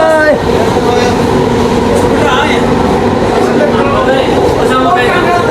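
A train reversing rumbles steadily and loudly nearby with a continuous mechanical drone, while people talk over the noise.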